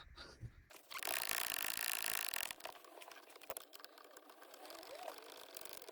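Mechanical ratcheting and metallic clicking from slackening the handbrake adjuster nut underneath a Fiat 500, a dense rasping burst early on, then lighter intermittent clicks and scrapes close by.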